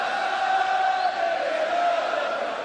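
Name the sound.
darts crowd making noise between throws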